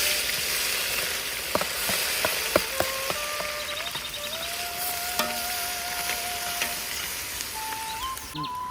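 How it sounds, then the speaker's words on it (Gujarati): Onion paste fries in hot oil with whole cardamom, cinnamon and bay leaf as the base of a village-style fish masala curry. A loud, steady sizzle carries throughout, with faint whistling tones and occasional clicks. "ડુંગળી આપણે નાખી દઈએ આપણે 10 મિનિટ સુધી હવે ડુંગળીને થવા દઈશું"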